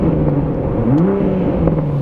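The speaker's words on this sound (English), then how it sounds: "And the exhaust kind of livens up a little bit, snaps, crackles, and pops a little bit more." A 2021 Toyota GR Supra 3.0 engine revs up and settles in sport mode, its exhaust rising in pitch then easing back, loud and close with a throaty drone.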